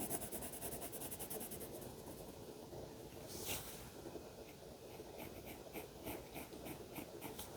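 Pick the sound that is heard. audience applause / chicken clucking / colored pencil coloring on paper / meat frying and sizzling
colored pencil coloring on paper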